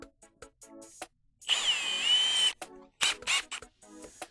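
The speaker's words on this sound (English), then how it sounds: "I'm going to take my drill and I'm going to put 2 drill holes in there" A power drill bores pilot holes in wood while building a simple ladder, a loud whining burst of about a second, then shorter drilling bursts with quiet clicks between.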